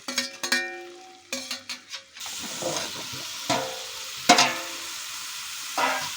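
Potatoes with turmeric and chili powder frying in a pan for a Bengali ridge gourd moong dal, with clattering metallic spoon knocks at first, then a soft sizzle broken by scattered scrapes of stirring.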